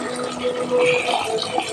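Water pouring steadily into a cooking pot for biryani, a continuous close filling rush lasting under two seconds with no voices.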